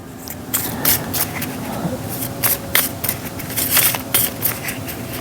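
A deck of cards from the Legendary Encounters: Alien deck-building game being shuffled by hand, with a rapid run of crisp riffling and flicking bursts that repeat close up for several seconds and no talk over them.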